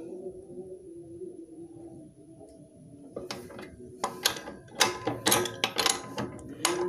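Tightening a nut on the front axle of a Vespa Sprint scooter: quiet handling at first, then a run of sharp metallic clicks and ratcheting taps grows louder and busier toward the end, with no talk.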